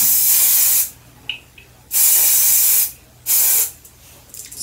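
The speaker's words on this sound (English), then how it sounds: "spray that part with Gatsby glue." Gatsby glue hair spray hisses out of a can in two loud, sustained bursts of about a second each, close up, with quiet gaps between and a third spray starting at the end.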